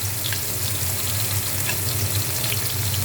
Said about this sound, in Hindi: फ्राई करते हैं।